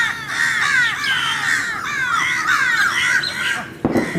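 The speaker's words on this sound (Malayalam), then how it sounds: "പിന്നെ കാക്കകളും ബിസ്ക്കറ്റ് തിന്നാൻ എത്തി തുടങ്ങി." Crows gather at a riverside amphitheatre in Kottappuram at dawn to be fed biscuits, a flock cawing loudly and continuously, overlapping calls close by, ending with a brief thump.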